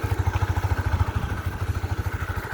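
Small-displacement motorcycle engine in Vietnam runs with a rapid, even low thump, close and steady over a faint whirring background, with no talk.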